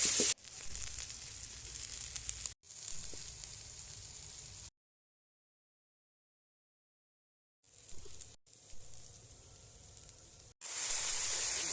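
Water poured onto spiced eggplant and potato frying in a pan, a loud hissing sizzle that cuts out for a few seconds of silence, then returns and swells again at the end.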